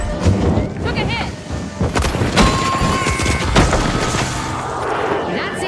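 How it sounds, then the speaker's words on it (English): A frag grenade blows up amid a busy firefight in The Finals, a loud boom mixed with rapid gunfire and impacts in dense, chaotic combat, with someone speaking over the noise. "Throwing a frag!"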